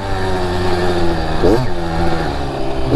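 A Kawasaki KX85 two-stroke dirt bike engine idles with a buzzy, ringing note, then snaps into one sharp rev that climbs and falls quickly before settling back to a steady idle, loud and close.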